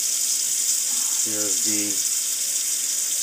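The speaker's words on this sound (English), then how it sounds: "Have a little bit of water running on the side, just so that you could rinse off all the detergent." Water runs steadily from a tap beside an espresso machine being cleaned, a constant bright hiss with a brief murmur of a voice partway through.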